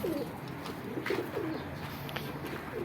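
Domestic pigeons coo repeatedly nearby, soft throaty rolling calls recurring every half second or so over a low background rumble.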